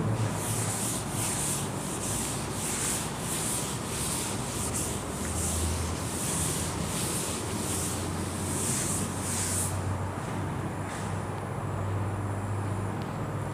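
Repeated rubbing strokes as a board is erased during a Punjabi-language algebra lecture, a steady rhythmic scrubbing of about ten strokes that stops two-thirds through, leaving a low background hum, with no talk.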